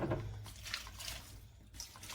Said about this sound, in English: I am going to give them a quick rinse